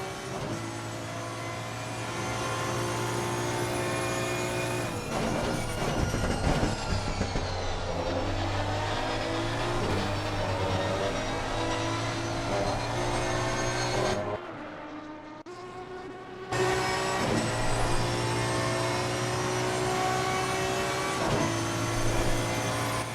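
Aston Martin V12 race car engine roaring loudly and steadily in a racing video game at Monza, with sustained revving tones, a brief dip in the middle, then the roar resuming.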